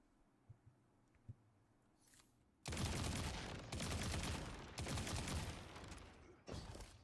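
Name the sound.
three-round burst weapon fire in the video game Destiny 2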